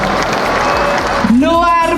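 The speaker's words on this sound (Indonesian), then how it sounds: "Tepuk tangan sekali lagi untuk Cak Lontong" Audience applause for comedian Cak Lontong at a political party anniversary celebration, a dense, loud wash of clapping from a large crowd, with a host's voice talking over it.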